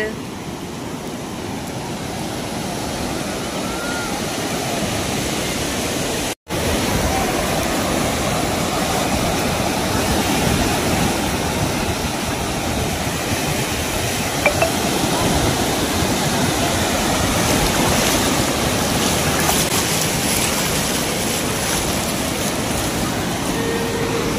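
Sea waves rolling in at Puri beach make a steady, loud broadband roar of surf that barely lets up, with one brief dropout partway through.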